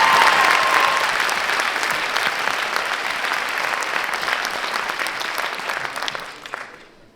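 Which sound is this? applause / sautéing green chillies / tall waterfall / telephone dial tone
applause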